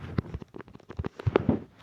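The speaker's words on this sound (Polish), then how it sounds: "To pomarańcze! One wybuchają!" Oranges exploding in a video game, heard as a quick run of crackling pops and small bursts, dense and fairly close over under two seconds.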